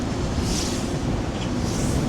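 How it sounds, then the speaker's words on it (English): Strong wind near wind turbines buffeting the microphone, a loud, low, continuous roar with gusty rumbling and no voices. "Unbelievably windy."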